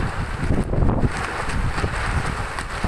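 Strong storm wind gusts roar and buffet the microphone outdoors near a garden, a loud continuous rumble with surging peaks and no talk.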